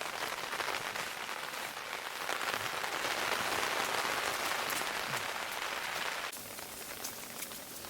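Steady, heavy rain pours down during a high-country storm in the Wyoming mountains, a dense continuous hiss of drops on surfaces that eases slightly near the end.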